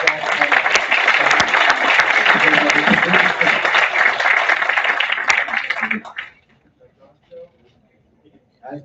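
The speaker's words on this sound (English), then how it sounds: "I want a huge round of applause for my co-host." An indoor corporate event audience bursts into loud sustained applause for several seconds, then it cuts off abruptly, leaving near silence with a few faint scattered sounds.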